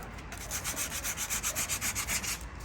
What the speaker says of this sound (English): With the 80 grade sandpaper.